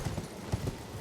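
Torrent, the spectral steed in Elden Ring, galloping with quick hoof clip-clops, several thudding beats in a rapid uneven rhythm, close and clear over faint background rumble.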